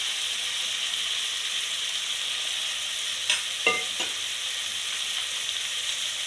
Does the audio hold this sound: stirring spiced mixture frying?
yes